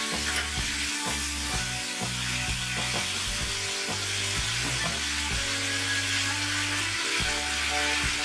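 Tamarind leaves and green chilli frying with spices in hot oil for a Bengali small-fish tamarind curry, a steady close sizzle with occasional stirring scrapes running throughout, no talking.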